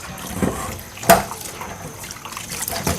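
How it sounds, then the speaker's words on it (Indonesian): Something being rinsed back and forth in water in a sink, with soft sloshing and splashing and a sharper splash near the middle, the water still very dirty. "ini tinggal dicuci bolak-balik"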